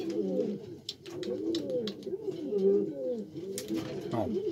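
Domestic pigeons kept as thief pigeons coo in a steady, overlapping series of throaty rolling calls, close and clear, with a few sharper sounds mixed in.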